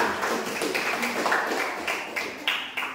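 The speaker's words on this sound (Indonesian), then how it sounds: "tepuk tangan semuanya" An audience applauds at the close of a presentation, a steady wash of many hands clapping for a few seconds, with a few sharper claps standing out.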